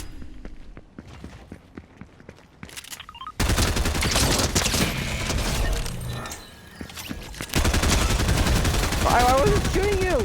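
Rapid bursts of gunfire and fusillades in the video game Fortnite, loud and dense, starting sparse and near-silent then erupting into sustained machine-gun style shooting with breaking and shattering hits, a brief lull midway before firing resumes.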